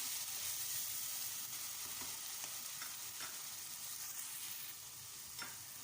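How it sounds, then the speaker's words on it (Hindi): Ginger-garlic paste, about a tablespoon, frying in a pan for potato and egg curry: a steady close hiss of sizzling oil throughout, with a few faint scrapes of stirring. "अब इसके अंदर मैं अदरक और लहसुन का पेस्ट शामिल कर दूँगी।"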